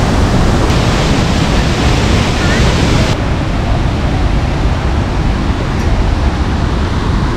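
Ripple Falls in Munnar, Idukki, rushes in a dense, loud, constant roar of falling water that fills the whole clip with little change in level.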